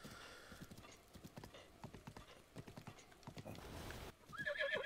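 Horse hooves clip-clop in an uneven trotting rhythm in the video game The Legend of Zelda: Breath of the Wild, fairly close and moderately loud, followed by a short high neigh at the end.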